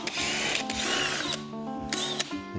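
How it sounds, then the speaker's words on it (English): A power drill whirs in steady high-pitched runs while drilling through wood, briefly cutting out and spinning back up, close and loud with no talking. "our best bet for long-term success is gonna be to try to drill"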